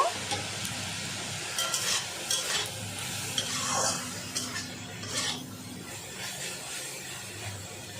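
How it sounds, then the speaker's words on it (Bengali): Potato greens tossed and fried in a home kitchen pan: soft continuous sizzling under repeated scraping and clinking stirs, close up and fairly quiet, with no clear talk. "এইরকমই নাড়াচাড়া করে আমি আলু শাকটা ভেজে নেব"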